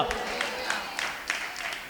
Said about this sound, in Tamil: கைத்தட்டி அப்பாவுக்கு மகிமை செலுத்துங்க.